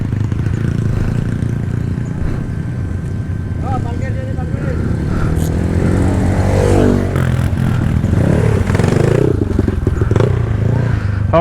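A motorcycle engine revs loudly and continuously at an off-road trail-riding event, its pitch rising and falling, with voices talking over the roar.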